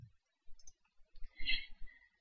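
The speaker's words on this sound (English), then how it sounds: "Sorry, I'm just typing back to this." Keyboard keys are typed in short, soft clusters of clicks, close and quiet, with small pauses between bursts and no voices.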